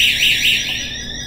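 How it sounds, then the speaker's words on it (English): A LifeSmart anti-theft alarm sounds loud and close, a shrill high-pitched electronic tone pulsing in quick repeated sweeps, steady and unaccompanied by any voice. "If somebody tries to steal this and it gets separated, you automatically get an alarm"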